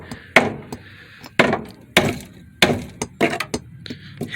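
A hammer strikes weak, rust-eaten car body metal in a series of sharp, close impacts roughly every half second, with scraping and crunching as rotten panel pieces are ripped out.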